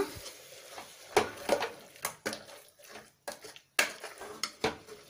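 A spoon scrapes and clinks against a pot while ground masala is stirred into a toor dal sambar, giving a run of irregular metallic knocks and soft scrapes at close range.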